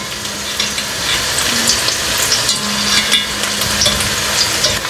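Chopped onion and garlic sauté in a hot pan for a kare-kare beef stew, giving a continuous close sizzle with light stirring scrapes and no talk.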